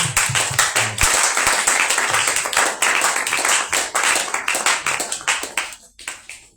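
A church congregation clapping steadily in rhythm, dense and loud for several seconds before tapering off, with some cheering voices mixed in.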